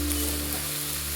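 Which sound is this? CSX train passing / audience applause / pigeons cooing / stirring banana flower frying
stirring banana flower frying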